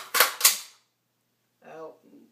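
A rifle's action is worked during a simulated dry-fire shooting drill: two sharp clicks land in quick succession, followed by a pause and a brief voice.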